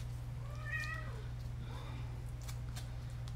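Cat in heat meowing: one drawn-out, rising meow up close over a steady low electrical hum, followed by fainter, softer vocal sounds.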